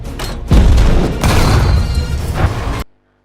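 A heavy, roaring blast rings out as a Soviet tank is hit by fire in wartime combat, loud and sustained with rumbling crashes before cutting off abruptly.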